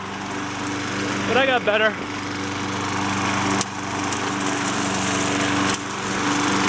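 A Craftsman 6.75hp lawnmower mowing a suburban lawn, its engine droning steadily and close, with a brief spoken phrase over the running motor.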